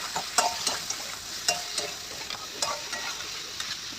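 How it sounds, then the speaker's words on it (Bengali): Garam masala powder stirred into frying spices in a pan gives a steady, close sizzle broken by repeated spatula scrapes at an even pace. "দিয়ে আবার একটু নেড়ে দেবো"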